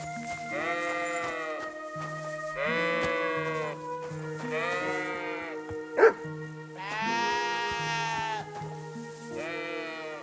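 Sheep bleating in a farmyard in Kingdom Come: Deliverance 2, with about five long, wavering bleats in a steady sequence, fairly close and clear, and one sharp knock partway through.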